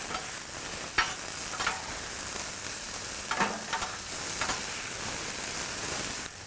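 Beef tallow sizzles and fries steadily in a pan while cheesesteak meat cooks, a continuous close hiss broken by a few sharper crackles and stirring scrapes.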